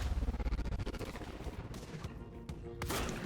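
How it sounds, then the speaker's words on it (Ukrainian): Rapid bursts of gunfire in the video game Quantum Break, loud and rhythmic, thinning into scattered shots and a final blast. "Стріляй, Джек!"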